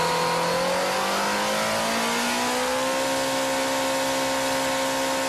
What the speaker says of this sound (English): The final step in the engine assembly plant is to run the new motor, and run it hard.